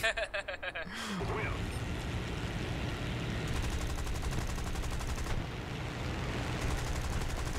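Rapid bursts of gunfire rattle in the War Thunder video game, a few spaced shots giving way to sustained continuous fire over a steady engine rumble, loud and close.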